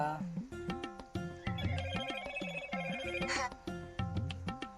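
A phone ringtone plays a repeating melodic pattern of tones, fairly clear and steady, looping several times with short low pulses between phrases.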